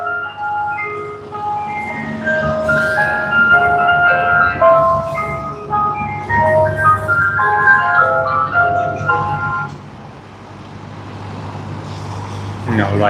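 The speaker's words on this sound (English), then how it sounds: "an ice cream truck." An ice cream truck near Sydney Airport plays its jingle, a clear looping chime melody carrying from a moderate distance over low traffic and engine rumble.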